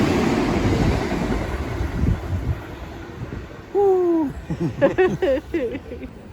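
A train rolls past in Arashiyama with a low rumbling rush for a few seconds that fades out, after which people talk nearby.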